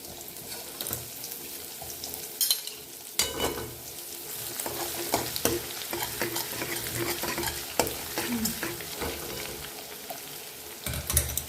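Garlic-ginger paste added to hot oil with popped mustard seeds for an Indian vegetable dish, frying with steady sizzling and scraping stir strokes, fairly loud and close, with no talking.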